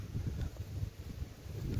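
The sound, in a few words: strong wind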